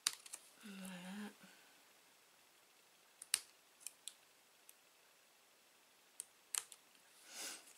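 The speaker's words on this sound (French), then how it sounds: "je crois que je vais le couper vite fait au ciseau" Scissors cutting small leftover bits of material by hand: a few faint, sparse snips and clicks spread out over a quiet background, with a brief soft murmur early on.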